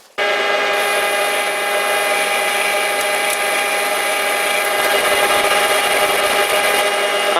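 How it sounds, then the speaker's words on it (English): Metal lathe making a light spring pass on a steel ER32 collet chuck backing plate register, a steady close machining drone with a high whine holding evenly throughout, no voices. "I'm taking a spring pass on the way back."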